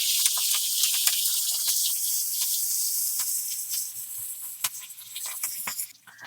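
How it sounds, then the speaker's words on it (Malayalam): Chopped ginger, garlic, onion and curry leaves sauté in a hot pan, giving a steady, loud sizzling hiss scattered with sharp crackles and pops that eases slightly toward the end. "ഇനി അതിലേക്ക് നമുക്ക് ഒരു കഷ്ണം ഇഞ്ചി, വെളുത്തുള്ളിയുണ്ട്, സവാളയുണ്ട്, ഇത് കറിവേപ്പില, ഇതെല്ലാം കൂടി ഒന്നങ്ങോട്ട് വഴറ്റിയെടുക്കാം"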